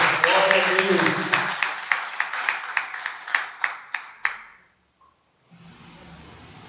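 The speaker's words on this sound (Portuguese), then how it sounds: "Dê uma salva de palmas ao Senhor." A church congregation applauds, dense clapping that thins into a series of separate claps and trails off into a brief silence, then a low murmur returns, with a voice over the clapping at the start.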